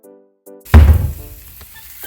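An omelette in a frying pan is flipped with a dull thunk and then sizzles loudly up close. The sizzle fades gradually over the following second. A short voiced sound comes just before the flip.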